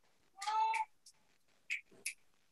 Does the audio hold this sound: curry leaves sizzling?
no